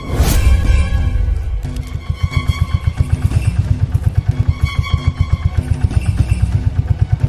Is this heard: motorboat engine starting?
yes